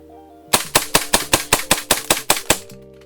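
A Tokyo Marui Hi-Capa 5.1 airsoft pistol empties its magazine: about ten crisp, snappy shots in a quick, even rhythm, close and loud, followed by the slide locking back.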